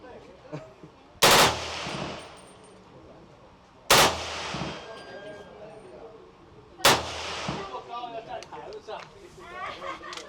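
Three loud, sharp gunshots ring out at a shooting range in Vietnam, spaced a few seconds apart with echoing decays, while people talk in between.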